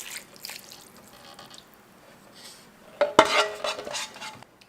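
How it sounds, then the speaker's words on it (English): Pan sauce pours from a pan over venison shanks in a slow cooker, with quiet liquid trickles and splashes followed by a louder clatter of the pan scraping and knocking against the cookware. "And then pour all that right over those shanks."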